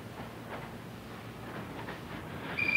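Freight train cars roll through a railroad classification yard with a low, steady rumble and faint clatter, and a brief metallic wheel squeal near the end.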